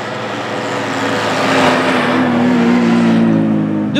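A vintage yellow Saurer postal bus in PTT colours drives steadily at an old-car event in Gstaad, its engine droning loud and close with a low, sustained hum and no talk over it.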